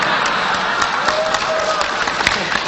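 Crowd applause during a national dialogue forum talk, dense clapping with a few sharper individual claps standing out and faint murmuring beneath.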